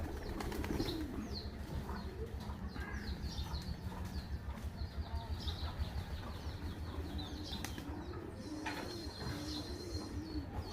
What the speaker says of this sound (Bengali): এই কবুতরটা খুব সুন্দর